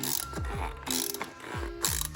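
Ratchet wrench tightening the oil filter on a BMW F10 with the N55 engine, a close run of quick clicking pawl ratchets in repeated strokes with short pauses between swings.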